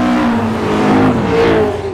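A race car engine revs hard on the Goodwood circuit during a track test day, a continuous loud, close roar with pitch rising and easing across the run, and no voices.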